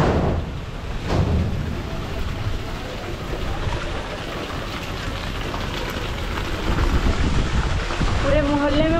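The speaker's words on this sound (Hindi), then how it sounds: "इतना तेज बारिश हो रहा है।" Heavy monsoon rain pours with stormy wind in Pali, Rajasthan, a steady loud broadband wash that swells toward the end, with faint gusts and a distant tone near the close.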